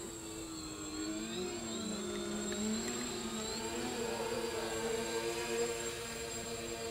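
A plus-size RC VTOL aircraft hovers nearby, its electric motors and propellers giving a steady buzzing drone with pitch shifting up and down as the throttle adjusts.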